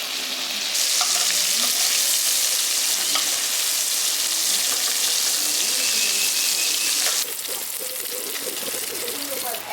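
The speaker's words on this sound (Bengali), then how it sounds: "চিংড়ি মাছগুলো হালকা করে ভেজে নিয়েছি।" Prawns sizzle and crackle in hot oil in a pan for a village-style prawn biryani, a loud, dense, unbroken frying hiss throughout with a voice faintly underneath.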